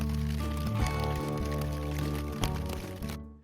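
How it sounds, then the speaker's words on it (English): Storm rain drums steadily on a tarp shelter pitched against a rock face in Ohlone Regional Wilderness, a dense close patter with occasional louder splats that ends abruptly. "I'm just tucked under my tarp and a rock face, so I'll just be here until the rain dies down"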